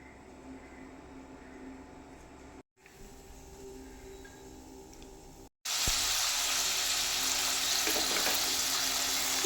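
Fennel seeds hit hot coconut oil in a pan for a beef roast, and a loud steady sizzle suddenly jumps up after a quieter stretch, hissing continuously close by.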